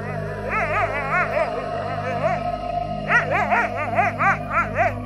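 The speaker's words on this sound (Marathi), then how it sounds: "कुत्र्यांचं भुंकणं तिथे अजून तसंच चालू होतं" Several dogs bark in quick, repeated bursts, forming two clusters of yapping over a constant low background hum at moderate distance.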